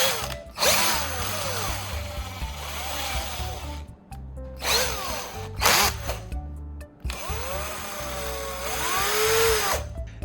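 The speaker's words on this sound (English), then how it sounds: "Now I'm going to attach it to the drill." Power drill spinning a rivet shaft clamped in its chuck, three loud whirring bursts that rise and fall in pitch as the motor spins up and slows, separated by short pauses.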